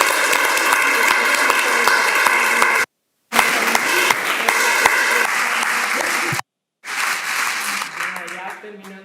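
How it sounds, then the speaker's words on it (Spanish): Steady applause from a conference audience at a university closing ceremony, dense clapping broken by two brief dropouts, with faint voices underneath. "se merece un aplauso muy grande"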